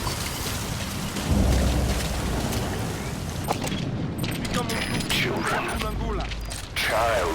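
Steady rainfall from a thunderstorm in the Metal Gear Solid 5 game, a continuous broadband wash with low rumbles of thunder, mechanical game sounds and a voice speaking over it.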